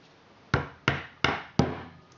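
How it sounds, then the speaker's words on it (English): Four evenly spaced wooden taps, sharp and close, as a small hammer gently knocks a peg into a knitting loom at a steady pace. "and hammer gently"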